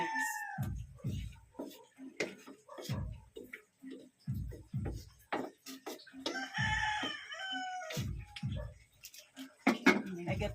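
Live chickens cluck steadily near a home kitchen where chicken afritada is being cooked, with a rooster crowing partway through, the calls loud and close with short gaps between them.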